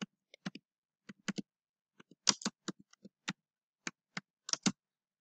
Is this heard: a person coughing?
no